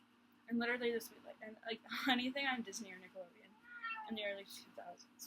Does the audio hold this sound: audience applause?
no